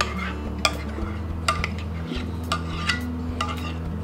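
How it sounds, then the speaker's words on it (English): Spoons stir and scrape through macaroni and cheese sauce in a pot on the stovetop, with repeated clinks and taps against the metal over a steady low hum. "I'm just going to take a couple of spoons and mix this up"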